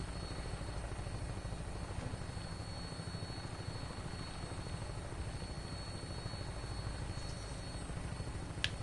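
A steady, loud aircraft engine drone, helicopter-like with a constant rotor hum, runs unbroken while an aircraft in Fallout 4 flies its final approach to an airport.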